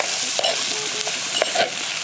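Oncom being stirred in a frying pan over a fire, with a steady hiss of frying and several scraping strokes of the utensil against the pan, close and fairly loud, with no voices.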